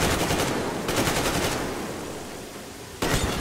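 Rapid automatic gunfire from the Metro Exodus video game, dense bursts of shots rattling loudly through the whole stretch, easing briefly before another sharp volley starts near the end.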